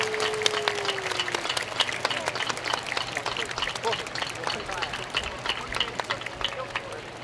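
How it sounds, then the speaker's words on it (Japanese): A crowd at the 2024 Kumagaya summer fireworks festival applauds the fireworks makers, a steady wash of distant clapping from many people outdoors, fairly soft, with murmured chatter mixed in. "対岸まで届くよう大きな拍手をお願いいたします。"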